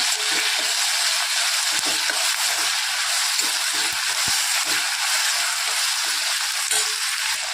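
Chopped medium tomato dropped into onions frying in oil, giving a dense continuous sizzle with faint stirring clicks and scrapes, close and steady throughout.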